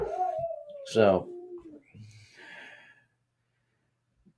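A dog howls mournfully from an upstairs bedroom, a drawn-out wavering cry rising and falling, heard through a man's speech and then fading to silence.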